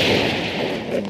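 Explosion in the side-scrolling action game Broforce, a dense, loud burst of crackling, rumbling noise that fills the whole short moment without a clear single onset.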